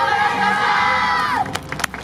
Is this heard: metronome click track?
no